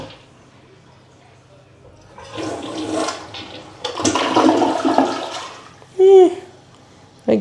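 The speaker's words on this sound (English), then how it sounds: "Let's give it a flush." A hotel bathroom toilet flushes loudly, its rushing water swelling over a few seconds before a sharp gurgling drain and refill hiss; a person speaks briefly nearby.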